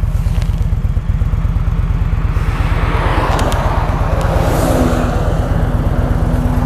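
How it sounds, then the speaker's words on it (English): Steady motorcycle engine rumble runs throughout with a rough, pulsing idle close by, while passing road traffic washes in and swells faintly in the background, one vehicle whooshing past midway. "Awful lot of traffic coming"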